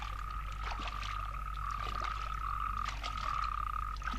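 Frogs croak continuously in the background, a steady pulsing chorus with a droning tone running throughout, faint and distant with no voices.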